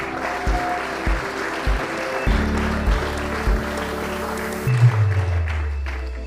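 Applause rises from the audience at a swimming association's awards evening, a steady wash of clapping that continues through the clip while low hum and rumble sit underneath.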